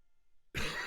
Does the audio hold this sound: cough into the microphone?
yes